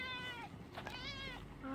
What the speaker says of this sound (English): Oh, look at this ridiculous cat.